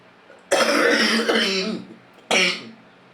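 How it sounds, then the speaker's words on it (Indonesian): A person coughs and clears their throat up close, one long rough throat-clearing burst followed after a pause by a shorter cough, quiet room around them. "Batuk aku."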